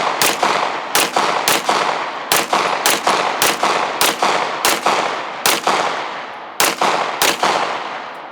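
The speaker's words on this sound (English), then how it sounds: "Let me shoot another course of fire here again." A Walther PDP pistol fired on a shooting course, sharp loud cracks in quick strings with brief pauses, about a dozen shots close to the listener, ringing echo filling the gaps.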